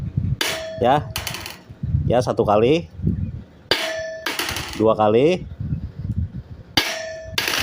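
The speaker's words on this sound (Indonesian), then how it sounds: "Seperti tadi ini kita jatuhkan palu ya" A hammer is dropped onto a hardened steel sawmill saw blade, making loud, sharp metallic clangs that ring briefly, repeated several times with a voice speaking between the strikes.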